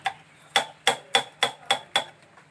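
A knife chops green chillies finely on a cutting board, seven crisp, evenly spaced knocks in a quick steady rhythm, close and clear with no voices.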